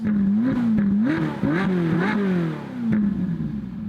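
A Ferrari 458 Italia with a Novitec valved sport exhaust and steel rear silencer revs repeatedly, pitch rising and falling in sharp bursts with raspy exhaust crackle, close and loud.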